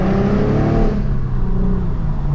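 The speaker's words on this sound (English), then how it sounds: "Let me let the window down for y'all so y'all can hear the exhaust a little bit more." The deep, rumbling exhaust of an Infiniti Q50 revs and drones steadily up close, a throaty low growl that rises slightly then settles.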